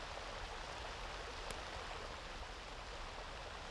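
A waterfall in the fantasy video game Solasta gives off a steady, even rush of broadband water noise that never lets up, with one brief faint chime near the middle.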